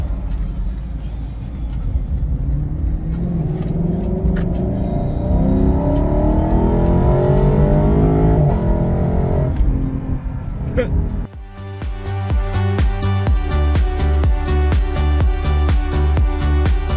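A JDM muscle car in Sport Plus mode pulls out into traffic, its engine note rising steadily under speech, then the tone changes sharply as the car continues accelerating.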